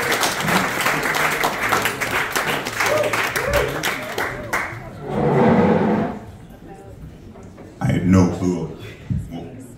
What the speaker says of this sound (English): let's give a big round of applause for Jason George